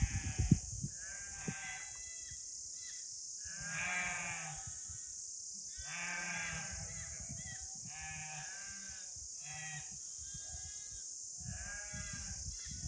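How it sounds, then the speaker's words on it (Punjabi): A flock of sheep being herded back along the Kuari Pass trek bleats repeatedly in close, wavering calls, several overlapping, above a steady high hiss, with no talking. "ਭੇਡਾਂ ਦੂਰ ਗਈਆਂ ਫਿਰਦਾ ਗੁਲਜਾਰੀ ਭੇਡਾਂ ਮੋੜਦਾ"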